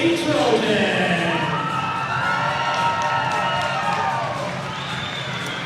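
A packed gym crowd at a high school Section 8AA volleyball quarterfinal in Minnesota cheers and shouts, with children's high voices and whoops swelling loudly and then easing slowly over several seconds.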